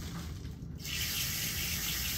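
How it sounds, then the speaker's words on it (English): A sink tap opens partway through, and water then runs in a steady, loud rushing stream into the basin during nurse aide catheter care, with no voices. "I'm going to open up the water."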